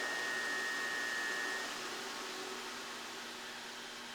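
Spindle motor of a Myford MG12-CNC precision cylindrical grinder winding down, a steady broad whir with a faint tone that drops away partway through and leaves a fainter, fading hum.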